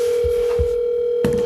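Steady telephone line tone from a played recording of a phone call, a continuous pitched hum with a few soft low thumps and a click near the end.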